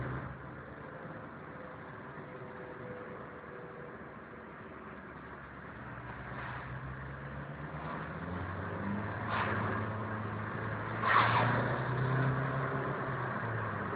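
A Nissan GT-R engine idles and then builds as it accelerates, rising revs heard from moderate distance with a louder swell near the end, alongside faint background noise.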